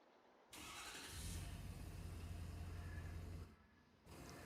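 A Ford F350 pickup truck engine in a farming video game cranks and fires up, running with a deep steady rumble for a few seconds before cutting out and restarting.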